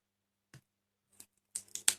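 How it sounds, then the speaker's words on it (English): Pliers snipping through tape, a few sharp crisp cuts: one isolated snip, a softer one, then a quick cluster of three close, bright snips at the end, all near and dry with silence between. "let's try and cut it with some pliers"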